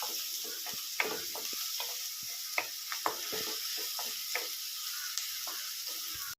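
Salted onions sauté in a pan for a Konkan-style wild-greens dish, with a soft continuous sizzle broken by repeated scraping and clinking stirs of a spoon, close and fairly quiet.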